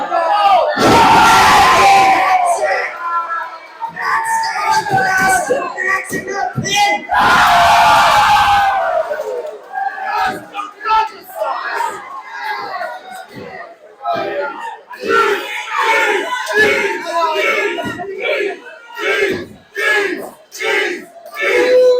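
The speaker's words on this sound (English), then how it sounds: "Listen to the Penticton crowd wholeheartedly behind these" A large crowd roars and yells in loud surges, with two big bursts of cheering and someone talking excitedly over the ongoing noise.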